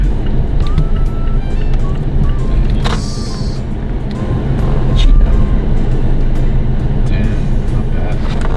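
A Honda NSX with a manual gearbox reverses into a parking space. A low, steady drive rumble is heard from inside the cabin, with a few short tonal blips and voices talking over it.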